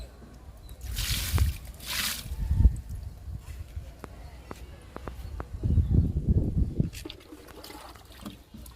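Liquid fertilizer poured onto a sapota plant, with splashy trickling bursts and sloshing into soil, loudest near the start and again midway, separated by quieter stretches and light knocks.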